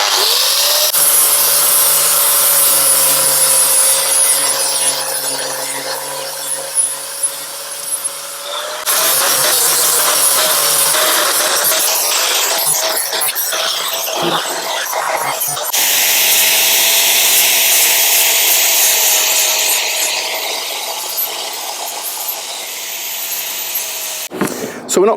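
A power tool cuts steadily through the metal bulkhead of a Land Rover Defender 90, a loud continuous grinding rasp broken by two short pauses across the stretch.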